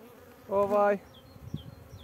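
A single honeybee buzzes briefly and close by at a beehive in the morning, one short loud drone followed by quiet outdoor background.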